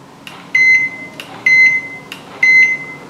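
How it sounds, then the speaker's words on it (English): Door status monitor beeping three times as its Units button is pressed, each a short, clear electronic beep repeated at an even pace in a quiet room. "press the Units button 3 times"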